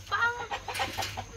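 A large rooster clucks and calls in a short run of throaty notes, close and fairly loud, with faint background noise underneath.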